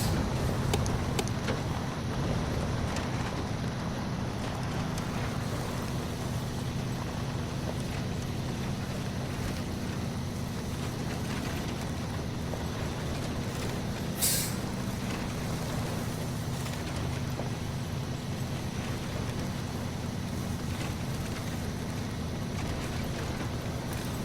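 A heavy truck driving in the Snowrunner video game gives a constant low engine rumble with grinding, rattling texture throughout, fairly quiet and steady, with one sharp brief click partway through.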